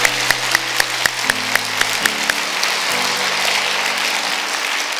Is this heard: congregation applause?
yes